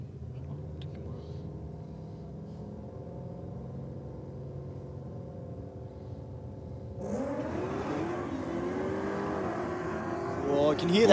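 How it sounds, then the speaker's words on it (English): A Ford XB and a C4 Corvette launching side by side at a drag race, engines droning and then surging loudly as the cars pull away with tyre noise, while a commentator talks over them. "I can hear that turn of the tyres there from both cars"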